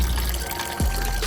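Coolant pours out of a BMW M4 F82 radiator in a steady, close liquid stream, a continuous splashing rush with one brief gurgle partway through.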